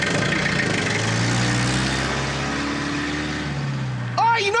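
A car engine idles with a steady low rumble throughout, under a constant mechanical hum, with a brief higher-pitched squeak or voice near the end.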